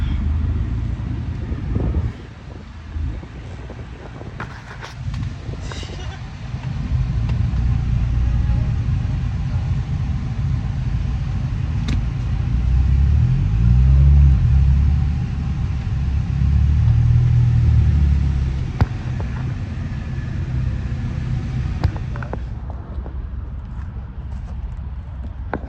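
An Audi car is being loaded onto a tow truck, with a low mechanical rumble and engine drone that swells midway, plus wind buffeting and occasional clanks.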